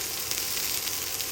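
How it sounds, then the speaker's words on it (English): Steak searing in a hot pan, a steady, dense sizzle and crackle of fat that stays loud and even throughout, with no talking over it. "So you want to hear that sizzle."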